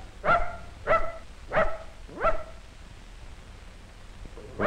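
A dog barks at a snapping turtle, five sharp barks spaced about half a second to a second apart, fairly close and clear against a quiet outdoor background.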